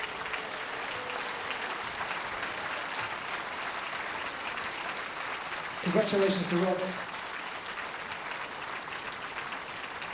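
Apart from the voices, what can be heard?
audience applause for bowls players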